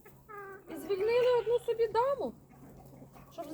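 Bantam hen in a backyard giving a drawn-out, rising vocal cluck followed by a few shorter calls, close to the microphone, with a person talking softly nearby.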